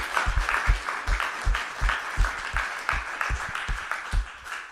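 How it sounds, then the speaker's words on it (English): An audience at a screenwriting shop talk session claps in steady, dense applause that runs the whole time at an even level, with many overlapping hand claps close to the microphone. "Let's give them a nice round of applause"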